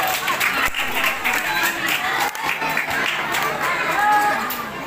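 Children at a Maulid Nabi school celebration clap the 'tepuk anak soleh' chant amid a lively crowd, a steady loud patter of hands mixed with chatter and cheering throughout.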